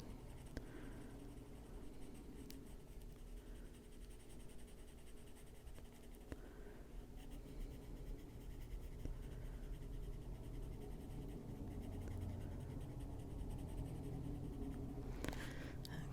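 A dark phthalocyanine green colored pencil scratches steadily across paper in a cute animal drawing, a continuous soft scraping hiss that runs on at an even, quiet level throughout.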